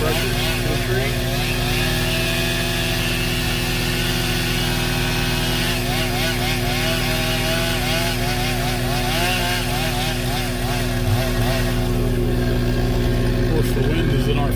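John Deere 333G compact track loader pushing a tree over, its diesel engine droning loud and steady throughout with continuous mechanical roar and creaking strain, outdoors in wind.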